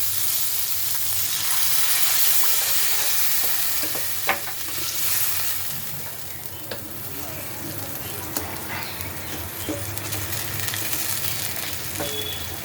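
Fried spice paste sizzles loudly in a pan as a little water goes in, the hiss swelling then settling under continuous scraping and stirring, close and steady throughout.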